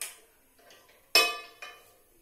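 A cooking pot set down into the neighbouring pan on a home kitchen stove, heard as one sharp metallic clank with a smaller clink just after, close and clear with no talk.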